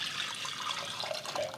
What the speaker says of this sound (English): We're gonna pour the rest of the liquid into a measuring cup.